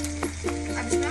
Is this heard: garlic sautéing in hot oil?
yes